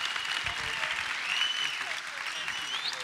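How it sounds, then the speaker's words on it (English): Audience applause at an evening talk event with pole vault champions, steady clapping filling the room throughout, with some faint whistle-like tones over the top. "Can we give them both a very big round of applause?"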